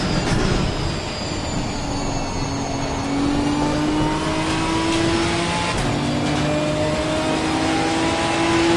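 A Ginetta GT4 race car engine in the racing game Assetto Corsa Competizione: a loud, steady engine drone whose pitch climbs as it revs up, drops at each gearshift and rises again, with no one talking.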